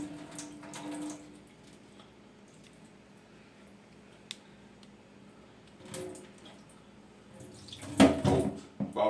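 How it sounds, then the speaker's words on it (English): Water being poured off a pot of boiled chips, faint sloshing and dribbling with a few knocks, ending in a louder splashing pour. "just gonna try pour the water out without losing any of my chips"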